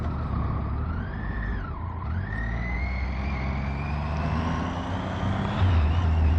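A Ford Mustang on the road passes close by with a rising and falling engine note. Steady road and engine rumble runs underneath, and a low drone grows louder near the end.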